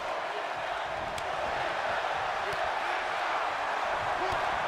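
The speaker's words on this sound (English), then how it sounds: "And there you hear the crowd on the side of Edge." A crowd roars in a steady, wide wash throughout a WWE 2K22 wrestling match, a sustained cheer with no gaps.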